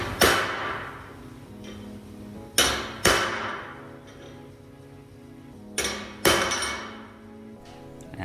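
Hammer striking number stamps into a steel welding test plate, several sharp, ringing metallic blows, some in quick pairs, separated by short pauses.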